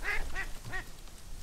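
Three short, nasal duck quacks sound in quick succession during a waterfowl and jackal hunt, close and fairly loud over a steady low background hiss, with no talking.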